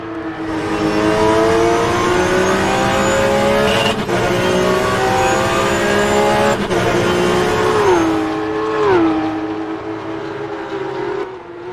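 Porsche Supercup race cars lapping at Suzuka in 2022, a continuous loud, high-revving engine whine with pitch sweeping up and down as cars pass and shift gears, crowded together throughout.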